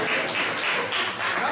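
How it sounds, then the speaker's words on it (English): Audience applause at a study-abroad experience talk, a steady wash of many hands clapping throughout, moderately loud and continuous with no speech over it. "give her a round of applause"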